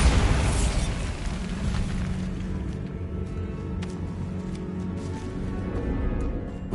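A magical blasting spell sets off a loud, deep explosion, its boom and broad rumble starting sharply at the onset and rolling on without pause as a sustained low roar with debris-like crackle.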